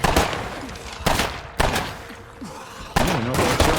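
Gunfire from the State of Decay 2 video game: four loud, sharp shots spaced about a second apart, each with a quick decaying tail, plus faint clatter between them.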